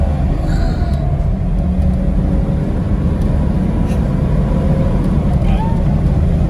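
A BMW 325i E30 M-Tech 1 with a naturally aspirated engine, heard from inside the car, gives a steady loud rumble that climbs in pitch as the revs rise, with a faint voice over it.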